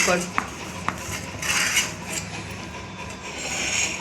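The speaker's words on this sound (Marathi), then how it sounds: "तर आपण हे कडकडने हे सुरीच्या ह्याने काढून घेऊ" A knife scrapes around a baked semolina cake to loosen it from the metal pan, giving close metallic scraping and a few sharp clinks, with brief rubbing sounds in between.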